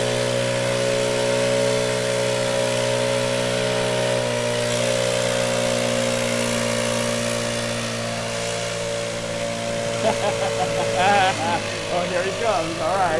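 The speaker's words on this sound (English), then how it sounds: "Here's our gas blower." A gas-powered leaf blower runs at a steady, droning pitch at moderate distance in an outdoor landscaping setting, with a voice briefly heard over it near the end.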